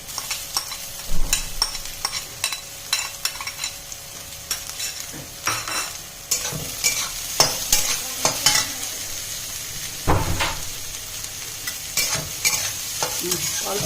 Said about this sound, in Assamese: কলপচলাখিনি অলপমান ভালকৈ ভাজি লওঁ।